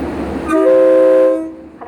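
The Thai Sprinter express train no. 3 sounds a loud, sustained horn as it departs Phichit station, a single long tonal blast heard up close.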